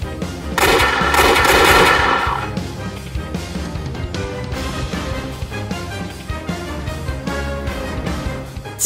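Automatic gunfire in the video game Code Geass Lost Stories, a loud dense burst of rapid shots at first, then continuing rattling volleys with a driving musical score underneath.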